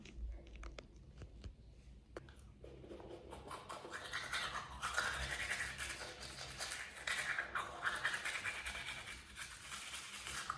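Someone brushes their teeth with a toothbrush, a close, wet scrubbing that starts with a few scattered strokes and then turns into steady back-and-forth brushing.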